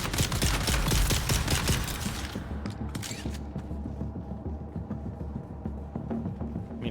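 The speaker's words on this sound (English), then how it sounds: "There's this guy standing here about to shoot at me." Gunfire in the video game Dune Awakening: a rapid volley of shots for about two seconds, then scattered single cracks against a quieter background, with no talking.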